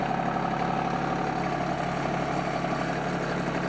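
A compact RK24 tractor's engine idles steadily at close range, a continuous even drone with a constant mid-pitched hum and no break over the few seconds.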